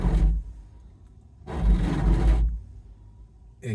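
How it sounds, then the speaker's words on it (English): A worn rear wiper on a Honda Odyssey sweeps twice across the back glass, each pass a harsh, scraping rub about a second long, close and loud against a quiet background. "if your rear wiper sounds like this"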